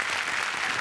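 A studio audience at a Marathi comedy show breaks into loud, sustained applause, an even roar of many hands clapping close and continuous.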